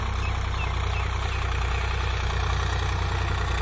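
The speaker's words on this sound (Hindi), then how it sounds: "तो अपना चल रहा भाइयों 744, खेत में चमकता हुआ फोर स्टार स्वराज ट्रैक्टर" A Swaraj 744 XT four-star 52 hp tractor runs steadily in a field during groundnut sowing, its engine a constant low throbbing idle-like drone that stays loud and unbroken throughout, with no talk.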